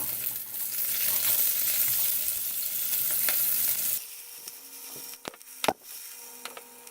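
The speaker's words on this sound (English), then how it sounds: "now we're going to be tossing in the onion" Onion hits olive oil with cumin seeds in a pan, a dense close sizzle that suddenly drops to a quieter simmer, followed by a few sharp wooden spoon knocks and scrapes.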